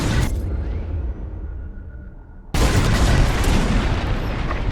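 Bombs dropped during a raid in the Star Wars: Squadrons space-combat game explode as a heavy, sustained roar that swells abruptly midway into a loud, dense blast rumble.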